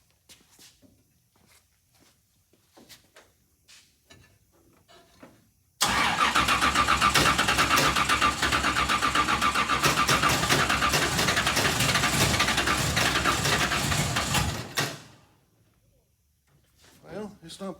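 Richard Petty race car engine after fuel priming cranks and roars to life abruptly, running loud and rough for about nine seconds before cutting off, with quiet handling noises and talk before and after.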